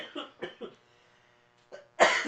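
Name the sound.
cough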